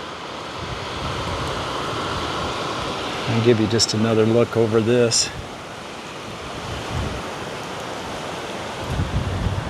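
Fitzroy Falls in Morton National Park roars as a steady, broad wash of falling water heard from a distance after a day of rain, with someone speaking briefly over it partway through.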